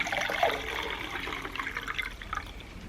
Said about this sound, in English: that's why we use a strainer to get rid of all the banana, so we just keep the liquid fertiliser instead